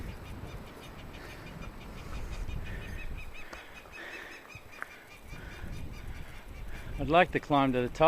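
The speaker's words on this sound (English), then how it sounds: "A couple of birds going off." Seabirds on a rocky island climb give loud honking, goose-like calls in a clustered burst near the end, over steady wind noise, with someone speaking briefly earlier.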